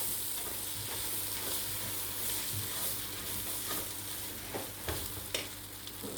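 Flour toasting in a pot to make a roux for thickening onion soup, with a low, steady frying hiss and scattered soft spoon scrapes and taps, the scraping growing busier toward the end.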